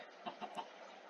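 Minecraft chicken clucking in the video game, three short, soft clucks spaced evenly over about a second against a quiet background.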